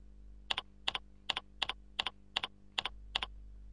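Eight evenly spaced keystrokes on a computer keyboard as a display name is entered for a Windows Mail account, each a crisp, close double click in a steady rhythm over a low hum, with no talking.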